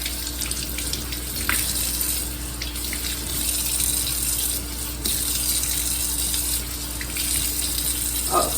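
Water runs steadily from a tap into a doll's bath, a close continuous splashing rush with brief shifts in the flow.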